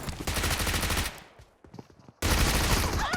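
Rapid automatic gunfire in a video game, loud close bursts that pause briefly in the middle and then resume at full intensity.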